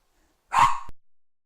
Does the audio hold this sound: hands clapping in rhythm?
no